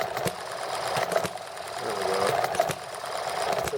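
A flooded horizontal model engine run on nitromethane is spun over to clear it, making a fast, rhythmic mechanical chatter with regular pulses and a brief rise in pitch midway, close and fairly constant.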